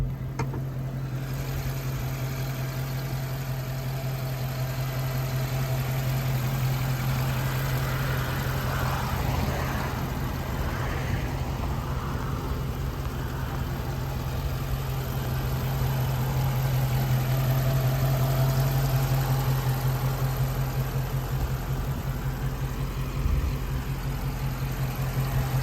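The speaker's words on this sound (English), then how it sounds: "exhaust is idling on the background." A 2020 Dodge Charger 392 muscle car engine idles with a deep, steady rumble and low throb, constant and close, with a slight swell midway and no talking.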